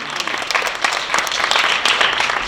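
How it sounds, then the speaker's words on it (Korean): An audience at a student project presentation contest breaks into steady, full applause that fills the whole stretch at an even, lively level. "잠실 야구장 문화 체인지 프로젝트 김서영 학생에게 큰 박수 부탁드립니다."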